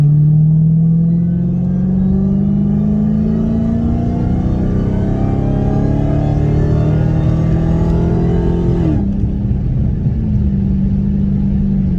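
A car engine running without its air filter drones steadily up close, rising in pitch as it revs and accelerates, then drops after a gear change, with a constant rumble.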